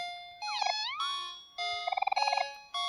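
Cartoonish cat meows from the video game OMORI, a few short synthesized tonal calls with warbling, pitch-bending notes, clean and close against silence.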